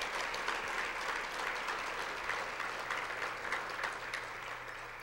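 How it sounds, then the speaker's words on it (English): Continuous applause at a 2005 USA Gymnastics Hall of Fame ceremony honoring inductees, an audience clapping steadily at moderate distance with no break, easing slightly near the end. "I'd like to give all the inductees a big round of applause for what they've done for USA Gymnastics."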